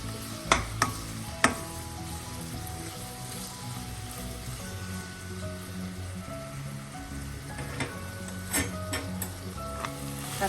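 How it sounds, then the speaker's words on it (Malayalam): Okra masala sautés in a pan with a continuous close sizzle, with a few sharp spatula knocks early on and again toward the end, and no speech. "എല്ലാം കൂടെ നന്നായി ഒന്ന് വഴറ്റാം."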